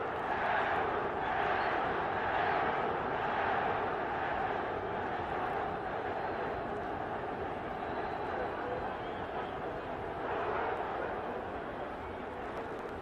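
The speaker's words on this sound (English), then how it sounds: "I guess you can hear the crowd whooping it up." Boxing arena crowd roaring and whooping during the Roberto Duran vs Esteban De Jesus fight, a dense continuous wash of cheering with a commentator talking over it.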